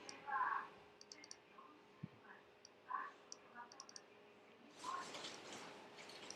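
Sparse, quiet mouse clicks come one by one and in small clusters while drawing in Keynote, with a brief burst of noisier activity near the end.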